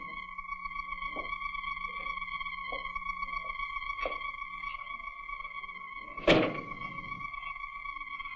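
Loose basement door giving a few soft knocks, then one sharp heavy bang, all over a steady eerie tonal drone.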